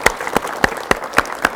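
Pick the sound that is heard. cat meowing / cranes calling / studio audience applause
studio audience applause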